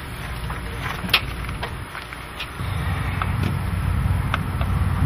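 A car engine with the ignition switched on and an HHO hydrogen converter fitted: a low, steady running rumble that grows slightly fuller partway through, with faint clicks and hiss above it and no speech.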